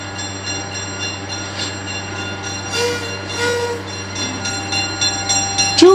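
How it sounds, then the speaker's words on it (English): A train rolls past with rumbling wagons and squealing wheels, its horn sounding near the end as the noise swells louder, over a constant mechanical hum. "There's the train."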